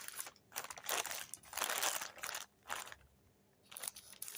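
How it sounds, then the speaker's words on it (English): Scissors cut open a taped envelope in close, crackling bursts of paper crinkling and snipping, several strokes with short pauses between them and no talk. "I am going to use the scissors."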